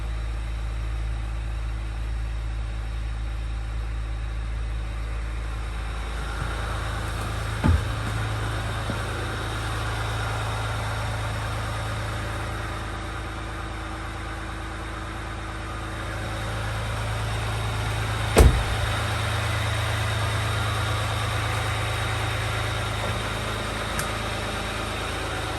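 A 2022 truck idles after a cold start on a winter morning in Montana, a steady low engine drone holding for the whole stretch, broken only by a couple of brief sharp clicks.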